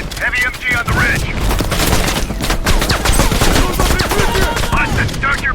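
Heavy machine gun fire on a ridge in Call of Duty: Black Ops Cold War, a dense continuous rattle of shots and booms, loud and close, with voices talking over the din.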